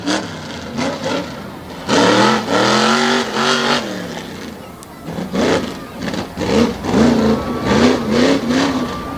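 A tough truck engine roars and revs hard during an off-road race run at a Susquehanna, Pennsylvania event, loud surging bursts rising and falling in pitch with short lulls between pulls.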